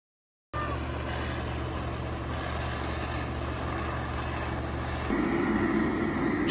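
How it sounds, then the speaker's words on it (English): A yellow electric blower, laced onto an inflatable backyard water slide, starts up and drones steadily to inflate it. The hum rises a little louder and rougher near the end, with no voices. "we have this yellow blower, which ties on via like a shoelace knot, which blows up the whole thing"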